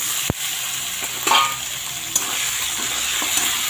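Goat meat added to a pan of onion, cumin and bay leaf frying in oil, giving a steady sizzle with a few sharp clinks and stirring scrapes, close and moderately loud with no talk.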